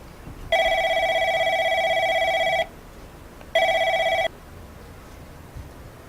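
In the video game Replica a phone rings in two electronic bursts, a long tone of about two seconds followed after a short pause by a shorter one, clear and alone against quiet background.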